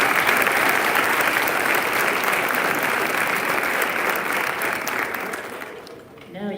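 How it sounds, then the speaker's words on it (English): Sustained applause from an audience at a fall sports award ceremony, honoring a women's team; dense steady clapping throughout, tapering slightly near the end. "Let's give these ladies a round of applause."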